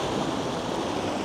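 A large ocean wave washes through a rock crevice on the Hawaiian coast, a steady loud roar of surging, churning water that holds for the whole brief moment.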